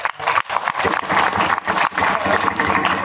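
Applause from an audience at a Marathi kirtan devotional gathering, a dense wash of clapping that swells and dips over about three seconds, with faint voices mixed into the crowd noise.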